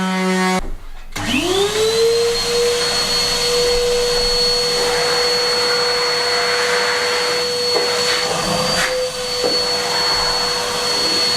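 A vacuum cleaner hoovers dust off a newly sanded floor in an old hay loft under renovation, starting up after a brief pause and then running as a loud, steady whine that continues alone to the end.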